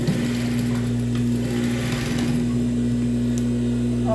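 A sewing machine hums steadily while stitching stretched elastic onto a children's high-waisted diaper-cover set, a close, constant motor drone with a slight rhythmic chatter and no talking.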